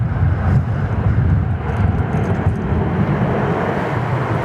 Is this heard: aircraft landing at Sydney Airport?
yes